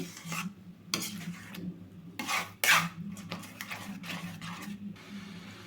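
Spoon scraping and clinking against a pan while a coconut milk sweet thickens, stirred steadily so the base does not scorch; a few louder scrapes stand out over a low hum.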